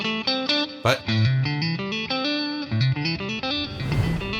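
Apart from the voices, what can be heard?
distorted electric guitar with every note picked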